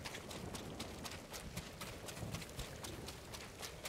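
Faint horse hooves in Ghost of Tsushima clip-clop in a steady, quick rhythm, set back in a quiet mix with no voices.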